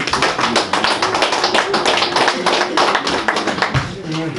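Audience applause fills a 50th birthday celebration, a dense, steady clatter of many hands clapping close by for the full stretch, with no pause in between.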